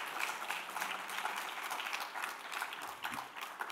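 Audience clapping in a lecture hall, a dense, even burst of applause that holds steady for a few seconds, somewhat distant.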